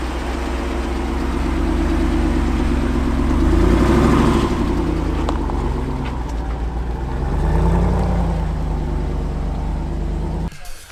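The V8 engine of a Jeep Wrangler 392 idles with a deep, steady rumble, swelling twice in low-frequency surges before cutting off abruptly near the end, loud and close, no talking.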